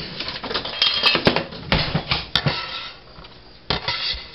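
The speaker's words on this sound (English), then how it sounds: "with each ear of corn, dump it into the pot" Corn ears are dumped into a cooking pot for canning, making a run of hard knocks and clattering thuds, loud and close, with the busiest burst in the first half.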